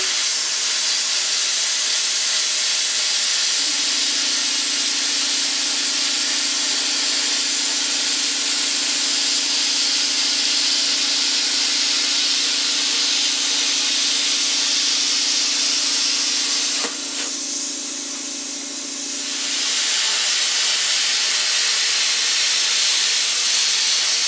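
A YESWELDER CUT 55DS plasma cutter on a 120-volt supply slices through 16 gauge sheet metal with a steady hissing roar and a constant hum lasting about sixteen seconds, with a crackle near the end before the cut stops.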